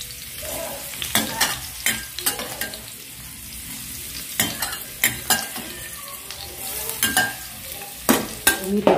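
Onion and garlic sauté in hot oil in a pan for a fish dish, a loud steady sizzle broken by repeated scraping stirs of a spatula against the pan, close up with no talking.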